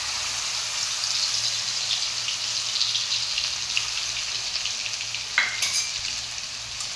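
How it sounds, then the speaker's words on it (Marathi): Onions, coconut and garlic fry in hot oil for a village-style mutton curry, giving a steady, dense sizzle that continues alone throughout, with a brief louder crackle near the end. "तेल तापलं, त्याच्यात कांदे, खोबरं, लसूण तेलात टाकूया."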